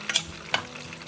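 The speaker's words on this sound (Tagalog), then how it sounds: "I-melt lang natin yung ating butter." Butter melts and sizzles in a pan for gravy: a low, steady hiss with two quick scraping clicks close by.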